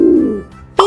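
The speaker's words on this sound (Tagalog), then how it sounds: "Pigeon." A single pigeon gives a short, close, soft cooing call, then a brief higher note at the end.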